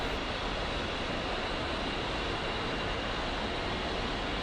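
Steady, dense aircraft engine roar from a flight-simulator game, an unbroken broadband drone at constant loudness with no variation or voices.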